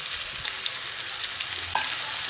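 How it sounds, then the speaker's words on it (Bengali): Chicken frying in a pan as turmeric, Kashmiri chilli and coriander powders are stirred in, giving a steady close sizzle with soft scraping stir strokes and a brief louder stir near the end. "এবার গুঁড়ো মশলাগুলো দিয়ে চিকেনের সঙ্গে আরও কিছুক্ষণ ভালো করে মিশিয়ে নিচ্ছি।"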